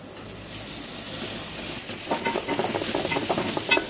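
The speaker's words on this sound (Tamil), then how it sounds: "ஸோ இதை எடுத்து இப்போ அதில் போட்டு மிக்ஸ் பண்ண போகிறோம்." Boiled pasta is stirred into a hot pan, giving a steady sizzling hiss with scraping, stirring clatter that grows busier toward the end.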